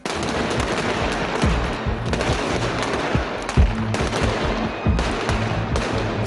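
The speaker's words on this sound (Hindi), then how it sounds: "मारियोपोल और डोबनास पर रूसी फोर्सेस की शदीद गोलाबारी जारी है।" Heavy gunfire and shelling in Ukraine: dense, sustained bursts of rapid shots with sharper louder blasts at intervals, a continuous loud clatter without speech.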